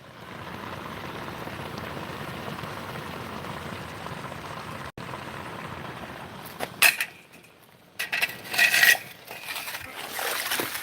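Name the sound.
something still boiling and bubbling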